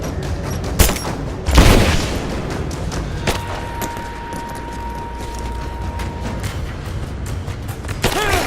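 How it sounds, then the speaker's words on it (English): Gunfire rings out in the video game Rise of the Tomb Raider, with a few sharp loud bursts early and near the end over a steady rumbling battle backdrop, and no talking. "Give me suppressing fire!"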